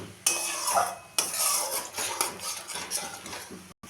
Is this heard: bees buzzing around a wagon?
no